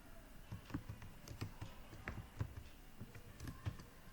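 Keys on a computer keyboard clack in an uneven, steady run of quick taps at close range, with no voices over it.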